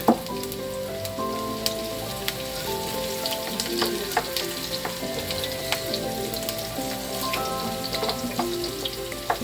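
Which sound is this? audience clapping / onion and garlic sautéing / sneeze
onion and garlic sautéing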